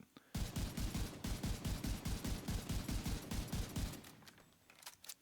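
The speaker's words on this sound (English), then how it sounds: "you can see just by shooting anywhere, there is no spread" Sustained automatic weapon fire in The Division 2, a rapid, even stream of loud close shots lasting several seconds before stopping abruptly, with a faint tail afterward.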